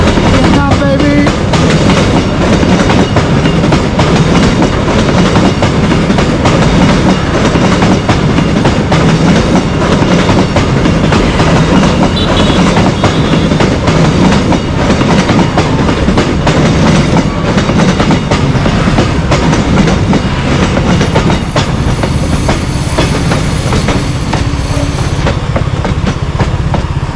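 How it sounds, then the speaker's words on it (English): A train in Vietnam rumbling past alongside the road, loud and close, with continuous clattering wheels and rattling carriages over a long, steady pass. "Riding side by side the train track, and this bad boy comes."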